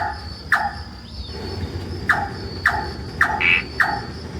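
A nightjar repeats short, sharp chirping calls at irregular intervals against a quiet night backdrop of insects in a Singapore forest.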